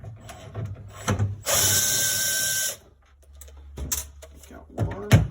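A power driver removes screws from an appliance defrost timer, with short whirring bursts and one steady sustained run, plus ratcheting clicks and handling noises between, close and moderately loud.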